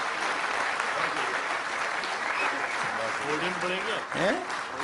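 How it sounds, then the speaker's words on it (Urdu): A mushaira audience with Rahat Indori greets the poet with loud standing applause, a dense steady roar of clapping filling the hall throughout while a voice speaks over it near the end. "زوردار تالیوں، آپ لوگ کھڑے ہو کے ایک بار سواگت کریں"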